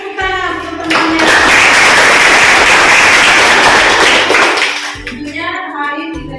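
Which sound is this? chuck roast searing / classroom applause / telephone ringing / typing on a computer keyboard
classroom applause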